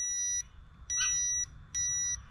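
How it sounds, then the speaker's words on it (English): Three high electronic beeps from a tester checking Yamaha DT175B stator wiring, each about half a second long, evenly spaced against a quiet background. "All right, you can hear it beep,"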